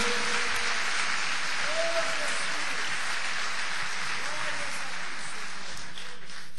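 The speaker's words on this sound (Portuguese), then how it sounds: "Levante a sua mão e aplauda o nome do Senhor nessa noite" Church congregation applauding during an evening service, a dense, steady wash of clapping filling the whole stretch, with a voice faintly audible beneath it.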